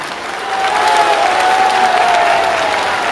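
A crowd applauds steadily to welcome Evo Morales at a meeting with local leaders in Monteagudo, Chuquisaca, Bolivia. The clapping swells after the first half-second into a dense, sustained wash, with a faint whistle-like tone riding over it.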